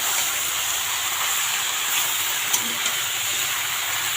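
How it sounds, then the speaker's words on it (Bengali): Washed Malabar spinach (pui shak) is added to hot spiced masala, giving a loud, steady, close-up sizzling hiss throughout with a faint clink partway through. "এই যে ধুয়ে রাখা পুঁই শাকগুলো এর মধ্যে দিয়ে দিলাম"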